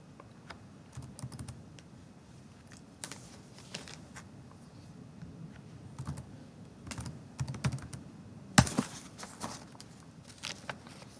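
Computer keyboard typed on while entering commands, with scattered, irregular close keystrokes and short clusters of taps against a quiet room, and one sharper click late on.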